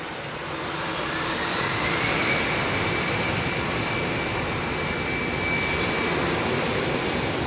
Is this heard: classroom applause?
no